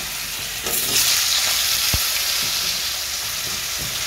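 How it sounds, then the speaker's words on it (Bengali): Potatoes frying in hot oil in a pan, a steady close sizzle throughout with a few soft clicks and scrapes of a utensil. "আলুগুলো ভেজে তুলে নেব"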